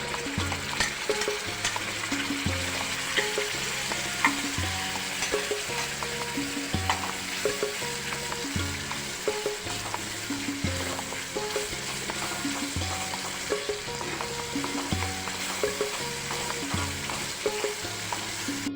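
Onion gravy frying in a pan for paneer tikka masala makes a steady, close sizzle and crackle throughout, with a repeating pattern of low tones running underneath and no speech.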